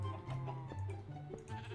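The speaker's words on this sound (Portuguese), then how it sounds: "Tá, duas ovelhas." Minecraft sheep bleating in a creative-mode skyblock game, several wavering bleats in quick succession, fairly loud and close over steady game background sound.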